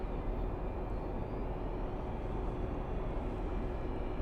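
Aircraft on a rehearsal flight passing overhead, a steady broadband roar that holds constant and loud throughout with no voices.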